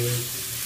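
Shallots fry with shrimp in a pan while being stirred, a brief close burst of hissing sizzle under a low hum, ending with a sharp scrape.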